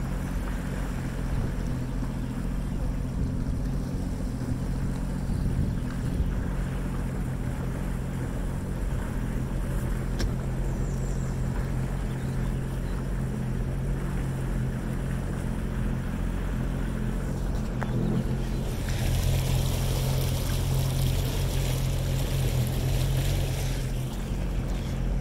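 A motorboat cruises through very shallow water near a cottage and dock, its engine a steady, close, low drone with water wash, growing a bit louder and brighter toward the end, no talk.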